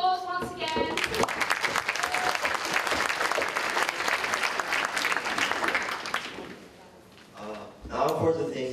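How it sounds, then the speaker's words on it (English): Warm applause from an audience at an urban planning presentation, a dense spell of clapping that fades after about six seconds, followed by voices speaking. "give them a round of applause once again"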